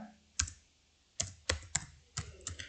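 Someone types on a computer keyboard while writing Python code, giving a few close, sharp key clicks in irregular bursts against a quiet room.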